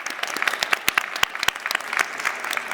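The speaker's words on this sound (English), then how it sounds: "a round of applause for our panelists" An audience at a panel discussion claps; fairly sparse individual claps ring out close by with a softer wash of applause underneath, moderately quiet and with no speech.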